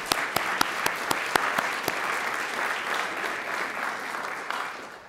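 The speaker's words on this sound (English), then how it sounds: "I'd like for you to please give applause and thanks" Audience applause at an academic symposium, many hands clapping in a soft, even patter with a few sharper claps standing out, sustained at a moderate, somewhat distant level.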